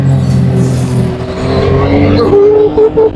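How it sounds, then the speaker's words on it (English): A powerful car engine roars up steep desert sand dunes, loud and close, with the revving rising and straining over a few seconds. "Imagine climbing like 200 meters, 100 meters sand dunes with a car."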